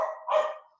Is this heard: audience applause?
no